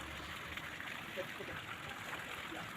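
Hot spring water surging and bubbling up from underground in a village, a faint continuous gurgling wash heard from close by without any talk.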